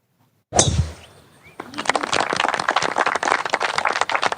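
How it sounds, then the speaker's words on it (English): A golf gallery on a course applauds as Coach tees off, opening with a sharp crack and then settling into steady clapping from a small crowd. "Coach tees off to applause from the gallery"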